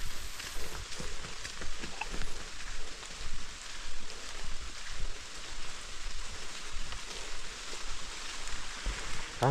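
Rain falls steadily in a forest, a dense, even hiss of drops on leaves and ground that holds through the whole stretch with no talk over it.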